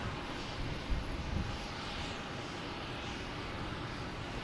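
JetBlue jet airliner at Boston Logan Airport, a broad, steady engine roar heard from a distance, holding even throughout with no voices.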